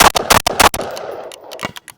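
An AR-180 Armalite rifle fitted with a red dot sight fires several sharp, loud shots in quick succession, followed by a pause and a few more clicks and bangs as the rifle has feeding trouble.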